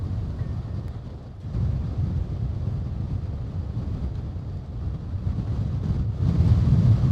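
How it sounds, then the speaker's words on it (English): Strong wind buffets the microphone outdoors at night, a continuous low rumbling roar that swells and surges, loudest near the end. "Whoa, that wind. Ripping."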